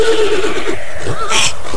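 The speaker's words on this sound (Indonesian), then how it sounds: "Pangrango, apa yang telah terjadi dengan kuda itu? Mengapa dia jadi gelisah seperti itu, Pangrango?" A restless horse neighs loudly and close by in one long, wavering whinny that rises and falls, followed by a brief snort, heard alone with no speech.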